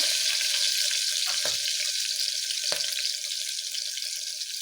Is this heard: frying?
yes